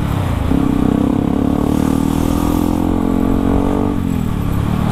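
A Kawasaki ZX25 motorcycle engine with a stock exhaust hums and revs steadily up close, loud and continuous, its pitch rising slightly midway and dropping near the end.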